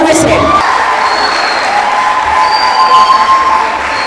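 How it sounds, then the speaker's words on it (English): A crowd of children and adults applauds and cheers for a contestant at a kids' podium competition, a steady loud wash of clapping and shouts that fades slightly at the end. "Please clap for Mary Catherine Mendy once again."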